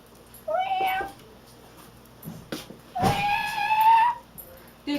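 A man working an animal call imitates a cat, producing two drawn-out, rising meows, the second longer and louder, with brief pauses and small knocks between them.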